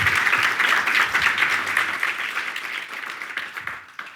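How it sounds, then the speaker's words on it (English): An audience at a music industry panel event gives the panelists a steady round of applause, a close, even wash of clapping that slowly tapers off over a few seconds. "give them a round of applause"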